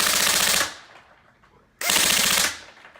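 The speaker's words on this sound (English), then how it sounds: "So the full auto on that just feels incredible" Two loud, close bursts of rapid full-auto fire from an airsoft DT4 light machine gun shooting from two barrels, each lasting over half a second, separated by a brief quiet gap, with no talking.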